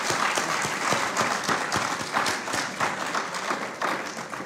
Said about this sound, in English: So let us give him a lusty round of applause.